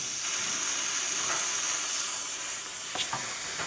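A continuous hiss of an air spray gun applying rust proofing into car body cavities, steady throughout, with a couple of faint clicks or knocks in the background.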